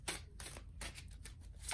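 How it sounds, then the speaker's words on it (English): Tarot cards being shuffled by hand, close and quiet, with quick riffling bursts repeating in an uneven rhythm and no talking. "we're gonna just shuffle these"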